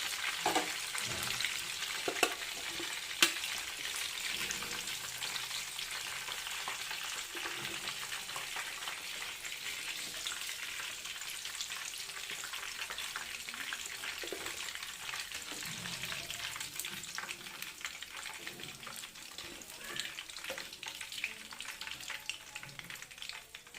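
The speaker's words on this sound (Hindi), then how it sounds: "देखिए फ्रेंड, चिकन लॉलीपॉप फ्राई हो चुके हैं अच्छे से" Chicken lollipops fry in hot oil in a home kitchen, making a steady, dense sizzle and bubbling that runs the whole time, close and even, with occasional stirring and no talk.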